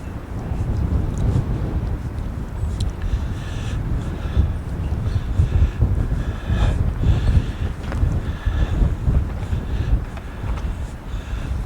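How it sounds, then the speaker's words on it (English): Wind buffets the microphone outdoors at a railroad museum among old boxcars on a chilly, snowy day, a steady loud roar and rumble throughout with no clear speech. "it's a little chilly and windy today"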